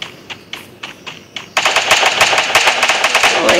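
Gunfire in a mobile shooter video game: a few spaced single shots, then a sudden loud, rapid automatic burst that keeps rattling until the end, close and alone, with no talking.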